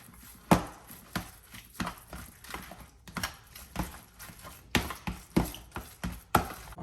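A spoon stirs a teaspoon of parsley flakes into lasagna meat sauce in a pan, making a steady run of close, sharp clicks and scrapes against the cookware with no talking.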